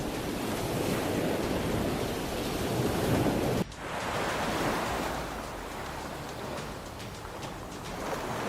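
Ocean waves roll in the open sea with a continuous broad wash and wind rush, and one abrupt break partway through.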